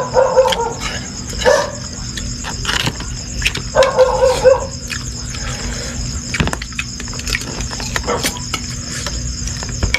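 A dog barks in short bursts, a few yaps near the start and another cluster around four seconds, over steady background hum and faint clatter.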